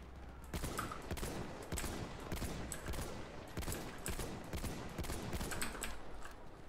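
Battlefield 1 gunfire crackles in rapid, sharp bursts and single shots, repeated irregularly throughout at a modest, slightly distant level with no talk over it.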